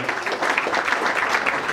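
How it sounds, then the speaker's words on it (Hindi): An audience at a music festival tribute event claps during an award presentation, producing a continuous, moderately loud wash of many hands with no pause. "आप सभी की तालियां बजती रहनी चाहिए जब ये अवार्ड प्रदान किया जा रहा है।"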